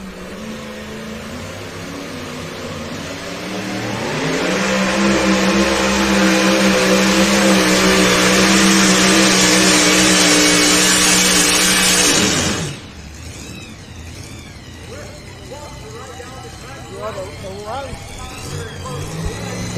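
A pulling truck's engine on a truck and tractor pulling track in Napoleon, Ohio, builds into a loud sustained roar of about eight seconds and then cuts off abruptly, with crowd ambience and an announcer's voice around it.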